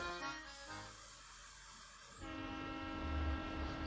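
A steam train in the Professor Layton and the Diabolical Box video game, hissing and rumbling with a sustained horn tone that shifts as the engine gets going, heard alone.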